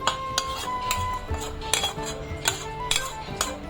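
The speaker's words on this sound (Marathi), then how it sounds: "आता आपल्याला छानसं मिक्स करून घ्यायचं आहे" A spoon clinks and scrapes against a pan while stirring cooked rice with a jaggery and coconut mixture for narali bhat, giving repeated sharp metallic taps at a steady rhythm, close and alone.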